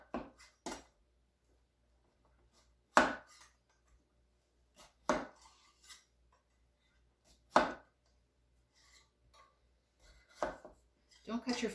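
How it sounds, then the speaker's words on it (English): A long knife cuts down through a potato between slicing guides to make hasselback potatoes, giving sharp, separate chops on the board at irregular intervals with quiet pauses between them. "use your long knife and go through the guides and just start cutting"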